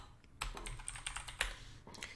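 Quick, faint keystrokes on a computer keyboard tap out a short command in a quiet room, forming an irregular burst of close clicks.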